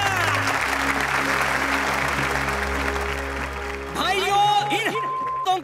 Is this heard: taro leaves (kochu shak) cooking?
no